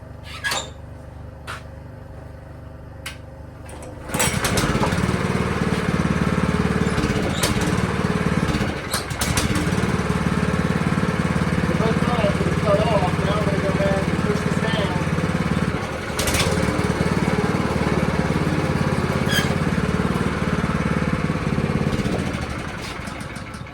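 A rented sod cutter's small engine starts after a few faint clicks, then runs steadily and loudly at a constant idle-like drone, with a brief dip midway.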